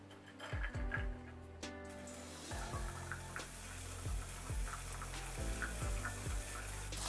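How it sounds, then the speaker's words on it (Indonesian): Shallots and kencur dry-fry in a small amount of oil in a wok, giving a steady low sizzle with occasional clinks and scrapes of a utensil against the pan, fairly quiet throughout. "bawang merah beserta kencur ya, dan akan kita sangrai"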